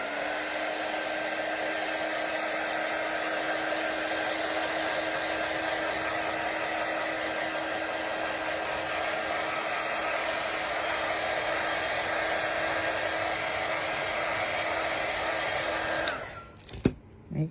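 A hair dryer blows steadily on chalk on a tiered tray insert, a continuous close whooshing hum with a faint whine that cuts off near the end, followed by a few handling clicks.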